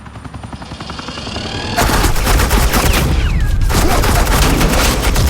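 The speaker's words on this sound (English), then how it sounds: "Suppressing fire." Heavy suppressing fire in a Batman video game, with rapid machine-gun bursts erupting over a helicopter-like drone, continuous and loud, briefly dropping before another sustained volley.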